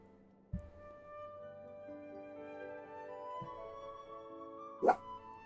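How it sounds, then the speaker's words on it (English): A dog gives a couple of short, muffled yips and a brief whimpering bark indoors, faint and spaced out over a quiet background with a steady tonal hum. "My dog's trying to bark."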